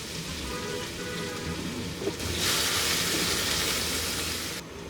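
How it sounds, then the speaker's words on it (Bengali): Finely chopped onions fry in three to four tablespoons of oil in a pan over medium-high heat, a dense close sizzle that jumps louder partway through and holds steady, with no talk. "ওগুলা দিয়ে এটাকে একটু ভেজে নিব।"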